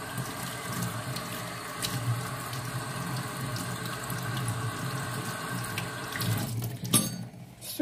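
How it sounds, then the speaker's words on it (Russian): Tap water runs steadily into a sink, rinsing a silver cup cleaned with toothpaste, a constant splashing flow that turns sharper and more agitated near the end. "Смываем дальше водой."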